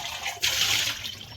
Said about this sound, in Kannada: ಆಮೇಲೆ ಇದ್ರೊಳಗೆ ನಾನು ಬಿಸಿನೀರು ಇಡಬೇಕಂತೇಳಿ ತೊಳಿತಾ ಇದ್ದೀನಿ.